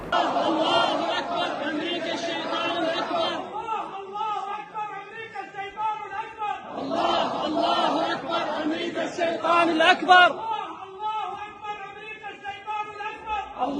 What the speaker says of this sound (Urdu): عراقی پارلیمنٹ میں اللہ اکبر اور پھر امریکہ کے خلاف لگاتار نعرے لگنے کی آوازیں آپ یہاں پر اس وقت سن سکتے ہیں۔